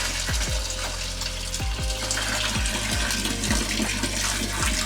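Water gushes steadily from the outlet of a water change pump, a continuous close rush broken by low, rhythmic gurgling surges roughly every second.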